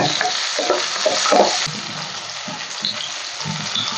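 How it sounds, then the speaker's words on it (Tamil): Small onions and garlic sautéing in a pan for a rock fish curry, a steady, loud sizzle with irregular stirring scrapes and clatters running throughout, no voices. "அந்த சின்ன வெங்காயத்தை சேர்த்துக்கோங்க சேர்த்து நல்லா வதக்கி விட்டுருங்க"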